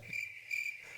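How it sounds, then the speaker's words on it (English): Crickets chirp in a jungle in East Africa, a high, steady pulsing trill repeating in short bursts, fairly close and alone with no voices. "That was the sound of the crickets in the jungle."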